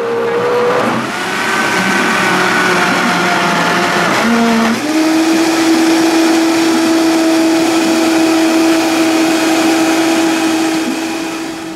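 A blender whirring through frozen bananas climbs in pitch as it steps up to high power, then holds a loud, steady, close-up whine with a rough grinding edge for the rest of the run.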